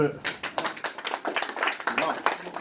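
A crowd at a rally applauds the mayor with a brisk patter of many hands clapping, with voices mixed in.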